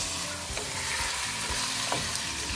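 Chicken for biryani, added to a pot while still partly frozen, being stirred and fried: a continuous close sizzle with repeated stirring scrapes and soft knocks, no voices.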